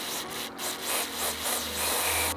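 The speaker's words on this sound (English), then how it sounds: "take your mass airflow cleaner and give it a few sprays" Mass airflow sensor cleaner spraying onto a BMW intake valve, a steady close hissing spray running continuously and loud, swelling and easing slightly, with no voices.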